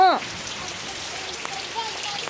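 Dense, steady rain pattering on a surface nearby in a village farm field, with a short vocal sound at the very beginning.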